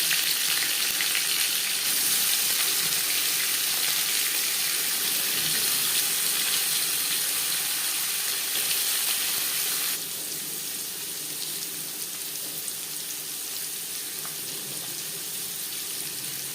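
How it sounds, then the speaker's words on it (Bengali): Paneer frying in three spoons of hot mustard oil crackles and sizzles continuously up close, easing slightly in loudness partway through. "3 চামচ সরষের তেল গরম করে নেওয়ার পর দিয়ে দেবো পনির"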